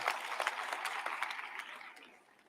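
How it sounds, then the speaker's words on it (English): An audience at a university graduation ceremony breaks into steady applause, a bright, dense patter of many hands with a few sharper claps on top, heard from a middle distance and tapering off toward the end, with no voices over it. "I think the university deserves a round of applause."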